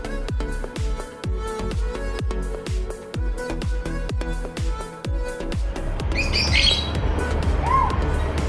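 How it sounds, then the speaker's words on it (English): A robotic white parrot at a robotic birds exhibition chirps and squawks amid a steady mechanical tapping rhythm, with bright bird calls rising clearly in the last few seconds over background noise. "So the parrot, so this is what we call as a parrot. A white parrot"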